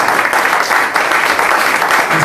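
A church congregation applauds together in sustained, dense clapping that stays loud and steady throughout, with faint voices mixed in.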